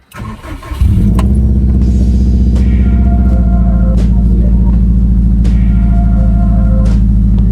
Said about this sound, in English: And we'll let's start the car.